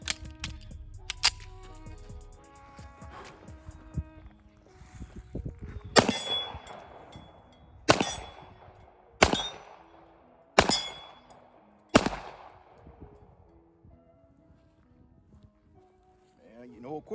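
Rock Island 1911 pistol in 10mm firing at an outdoor range: five sharp, loud gunshots spaced about one to two seconds apart, preceded by faint clinks and handling noises.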